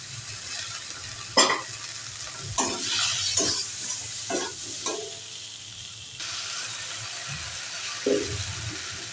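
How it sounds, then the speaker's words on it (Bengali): Turmeric powder and ginger paste frying in oil in a pan, a soft continuous sizzle with repeated scraping stirs and clinks of a spoon against the pan, no voices. "হলুদের গুঁড়ো, আর দেবো আদা বাটা, অল্প একটু আদা বাটা দিলাম।"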